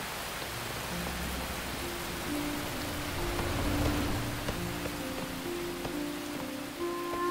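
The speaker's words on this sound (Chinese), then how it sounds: "下这么大雨怎么追啊？" Heavy rain falling steadily outdoors, a continuous dense hiss of drops on surfaces that holds at an even, moderately loud level with no pauses.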